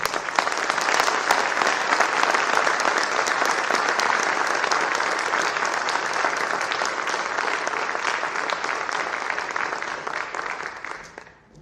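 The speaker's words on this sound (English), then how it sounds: "They deserve another round of applause." Sustained audience applause for a high school symphonic band fills the hall, a dense steady wash of many hands clapping at full strength for about eleven seconds, then tapering off quickly at the end.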